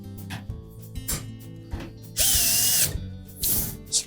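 A power screwdriver drives a screw to secure a panel on a Whirlpool washer, with a loud whirring burst lasting under a second, followed by a shorter second spin, amid light clicks and handling knocks.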